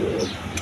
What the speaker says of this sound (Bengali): দেখেন একদম বিগ সাইজের রাজগোল্লা কবুতর।